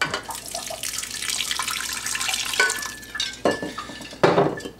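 Water runs and splashes into a bowl while homemade butter is rinsed by hand, a steady close tap-like stream with sloshing and clinks of the bowl, no talk.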